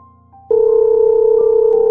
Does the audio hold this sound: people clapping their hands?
no